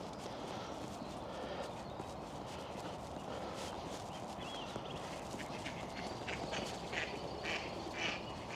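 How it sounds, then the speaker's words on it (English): Ducks quack at a distance on an open hillside hiking trail, a few faint calls rising from steady wind and outdoor rumble, growing slightly more frequent toward the end. "Oh, there's a duck over there."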